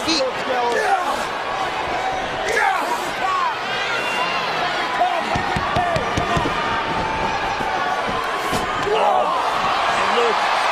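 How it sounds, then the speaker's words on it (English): Heavy slams and thuds ring out as a wrestler is knocked off his feet in a televised SmackDown match, loud and close over a roaring arena crowd and fast commentary. "knocking Kane off of his feet."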